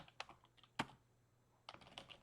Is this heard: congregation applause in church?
no